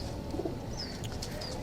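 Pigeons kept by a hobbyist give soft, low coos in a brief, faint moment, mixed with a couple of thin chirps over a steady background hum.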